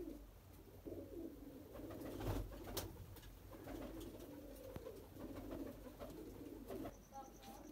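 Kasuri pigeons offered for sale coo softly in a low, repeated rhythm, joined by faint chirps from other birds. Someone talks over them at low level.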